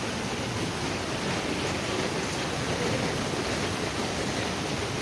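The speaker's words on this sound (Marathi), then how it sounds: "मस्त मस्त पाऊस आहे सुरू" Steady monsoon rain falls continuously in Mumbai, a dense even hiss of drops on surfaces, close and fairly loud with no voices.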